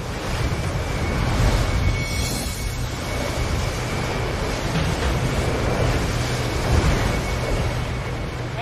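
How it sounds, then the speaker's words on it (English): Storm-force wind at sea, gusting over 100 knots, roars steadily alongside crashing waves. The noise is loud and continuous with buffeting on the microphone, and there is no talking. "The wind kicks up over 100 knots."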